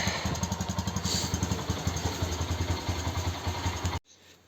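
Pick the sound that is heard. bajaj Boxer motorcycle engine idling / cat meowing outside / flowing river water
bajaj Boxer motorcycle engine idling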